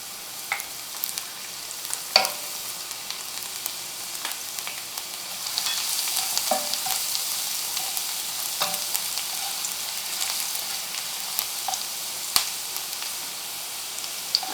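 Chopped garlic frying in hot oil in a pan, a steady crackling sizzle with scattered pops and occasional stirring clicks, close and continuous.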